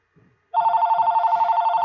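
A cell phone rings with an incoming call, a steady electronic tone pulsing rapidly at close range after a brief soft rustle.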